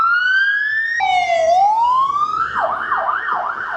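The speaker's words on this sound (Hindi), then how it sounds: "ये पुलिस की गाड़ी है" A police car siren on a city street in Sydney sounds loud and close, first rising in long wails, then shifting partway through into a fast, warbling yelp. No voices are heard.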